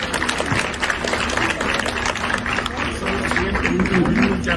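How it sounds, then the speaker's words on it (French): An audience at a school prize ceremony applauds, with sustained clapping mixed with crowd noise and voices over a low background hum. "Applaudissez-les, s'il vous plaît."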